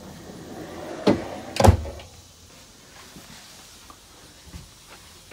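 An RV cabinet door opening, two sharp close knocks about half a second apart, followed by quiet room tone.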